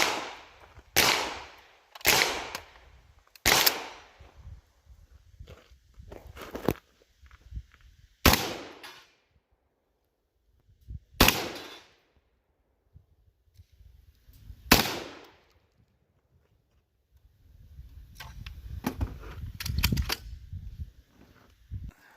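A Citadel Boss-25 12-gauge AR-style shotgun fires buckshot, loud sharp blasts in two quick clusters followed by several single shots spaced seconds apart, then scuffling and handling noise at the end.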